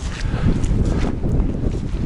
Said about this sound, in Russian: Прям продувает насквозь.